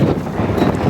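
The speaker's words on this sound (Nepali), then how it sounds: "एकदमै हावा चलिरहेको छ यहाँ" Strong seaside wind at Al Mugheirah and Al Mirfa buffets the microphone in a loud, rumbling gust that lasts under a second, with no voices heard.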